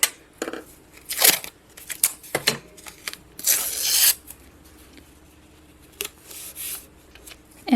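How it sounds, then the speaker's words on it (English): Scissors trim the fabric edge of an embroidered Easter basket tag, making several separate crisp snips and rustling cuts with quiet pauses between them, close up and alone. "then we'll trim down this side as well."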